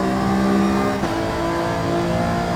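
Alfa Romeo 155 race car at Suzuka in Gran Turismo 7 accelerating hard, a loud, close engine note climbing steadily in pitch with a brief shift dip partway through.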